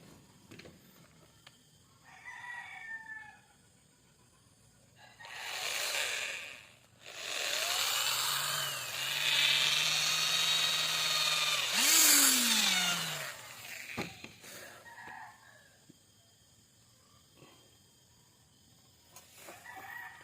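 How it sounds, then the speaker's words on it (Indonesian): A power drill bores into scrap wood while a homemade speargun is being built. Short bursts of whirring come with quiet gaps between them, including one sustained run of several seconds that winds down in pitch at the end. "Di sini kita bor sedikit."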